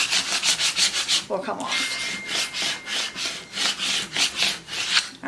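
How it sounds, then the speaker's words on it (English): Cricut vinyl transfer tape being rubbed down hard onto wood, a rapid rhythmic scraping that repeats in quick bursts up close, with a brief spoken remark partway through. "I'm just going to rub it down a little bit, or a lot"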